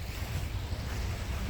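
Sea waves near a lighthouse on the coast, heard as a steady broadband wash of surf mixed with gusty wind buffeting the microphone, constant and fairly loud for a brief moment.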